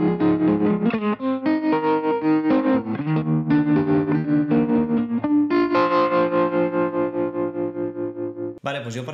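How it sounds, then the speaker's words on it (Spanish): Guitar run through the tremolo of a Walrus Audio Fundamental pedal, set to a fast tremolo, its chords chopped into a quick, steady pulsing throb that ends in a brief pause and a final strum. "ese efecto de trémolo rápido"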